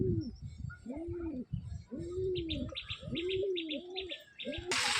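A pair of domestic pigeons gives repeated throaty coos at close range, joined by faint high chirping from other birds in the background, and a brief rustle at the very end.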